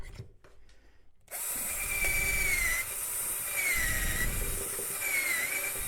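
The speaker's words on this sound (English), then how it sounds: "I can drill 2 holes" Power drill boring dowel holes in wood through a DowelMax Jr jig: after a brief quiet moment, a steady close whine starts and runs continuously, with the motor pitch dipping under load in repeated passes.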